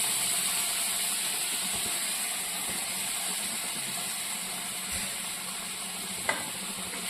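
A prawn roast simmers in coconut milk over low heat, giving a faint, steady hiss and soft bubbling that runs evenly throughout, with one small clink near the end.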